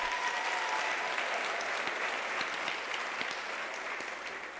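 A graduation audience at a UNISA autumn ceremony breaks into sustained applause, dense steady clapping from a large hall crowd that holds throughout and eases slightly at the end.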